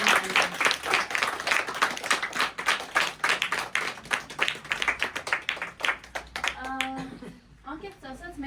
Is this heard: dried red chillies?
no